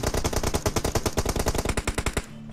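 Rapid automatic gunfire in a shooter video game, a loud, close, steady stream of about two dozen evenly spaced shots that stops abruptly near the end.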